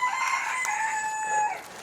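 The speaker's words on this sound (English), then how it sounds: "this rooster next door is in full form today guys" A neighbour's rooster crows next to a summer vegetable garden, one long drawn-out cock-a-doodle-doo that is clear and moderately loud, with no talk over it.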